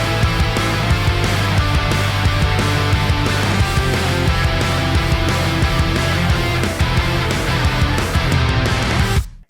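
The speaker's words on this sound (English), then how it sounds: "then you've probably heard an octave lead part that sounds like this" Dense, loud pop punk mix led by an octave lead guitar line over driving distorted rhythm guitars and drums, playing continuously for about nine seconds before stopping abruptly.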